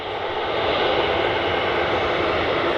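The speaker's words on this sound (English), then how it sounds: "Wing bounce central. 737-800." A Boeing 737-800 jet in silver and grey jet2.com livery at Manchester Airport gives off a loud, steady engine roar and broad rushing whine, with no talk over it.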